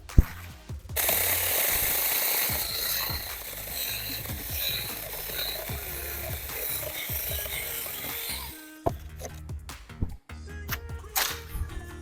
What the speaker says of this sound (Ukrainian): Ну ось ствол десь сантиметрів 5 в діаметрі, ну, в принципі, пиляє.